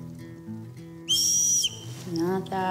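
Zoo trainer whistling during animal training: short, sharp, high whistle blasts, one clear note near the middle and more toward the end, with quieter low sounds between.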